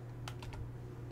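A few quick keystrokes on a computer keyboard, soft close clicks over a faint steady hum, during a co-op Dwarf Fortress session.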